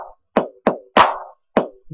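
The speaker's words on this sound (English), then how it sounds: "I like the E-Kit kick with that high bass" An E-Kit kick drum sample with boosted bass triggered in FL Studio, four punchy, clean hits with short decays and even gaps, loud and dry with nothing else audible.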